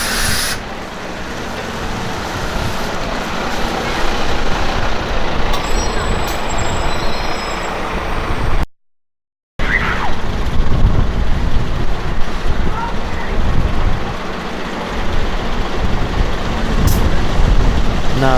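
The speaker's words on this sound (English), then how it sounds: "So here we've got two buses." Two buses in Brighton idle and move with dense, heavy engine rumble and broadband hiss, a sharp air-brake release among the noise, a brief dropout midway, and street traffic throughout.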